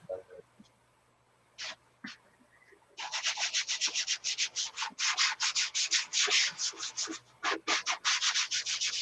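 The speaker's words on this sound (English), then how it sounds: "This is 400 I'm sanding with here." Brisk back-and-forth dry sanding with 400 grit sandpaper, a dry rasping stroke repeated rapidly and close up, preceded by a few isolated scrapes in near silence.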